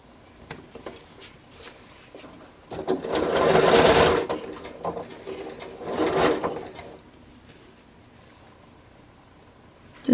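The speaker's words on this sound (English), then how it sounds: "and sew them together." A sewing machine stitches together the seams of a quilt block in two bursts. It whirs loudly and close-up for just over a second, pauses, then gives a shorter run, with quiet handling sounds between.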